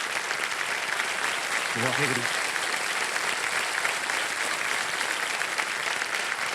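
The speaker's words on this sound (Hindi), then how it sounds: "तालियां बजते रहे इनके लिए।" A studio audience claps steadily on a television quiz show, sustained dense applause throughout, with a brief voice rising over it early on.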